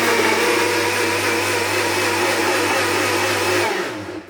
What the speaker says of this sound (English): I'm going to blend it all together and see what it's going to give